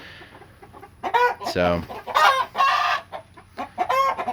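Chickens and several roosters cluck and squawk inside a coop, a dense run of overlapping calls with one sharp, loud burst in the middle, close by; a voice speaks briefly.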